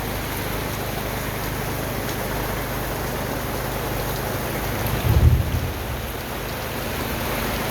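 Thunderstorm with steady heavy rain hissing throughout and a single low rumble of thunder swelling briefly just past the midpoint.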